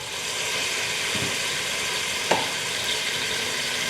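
Yellow curry with turmeric powder frying in a pan, a steady broadband sizzle running throughout with a brief scrape of stirring and a sharp spoon tap near the middle.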